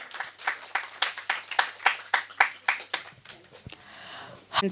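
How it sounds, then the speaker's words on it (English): Audience applause for award winners at a disability-inclusive care event, a brisk run of close, distinct claps from a modest group that tapers off after about three seconds, followed by faint room noise. "Congratulations, ma'am, and a big round of applause."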